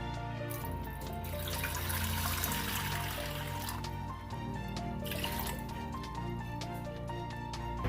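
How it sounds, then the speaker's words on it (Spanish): Half a litre of water pours into a cooking pot, a continuous close trickling fill that holds steady for several seconds, with no talking. "En esta olla vamos a ir agregando el medio litro de agua."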